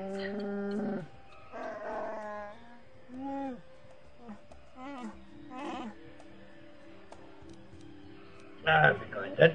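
A Wookiee chieftain in Star Wars: Knights of the Old Republic on Kashyyyk growls and yowls in several separate guttural bursts with pauses between, ending in a louder, harsher outburst.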